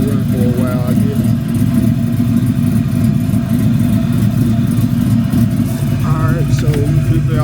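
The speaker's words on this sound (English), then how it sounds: "Let the car run for a while, I guess." A running car engine, an old G-body, rumbles steadily at close range with a constant low drone throughout, joined by some background noise and faint chirps.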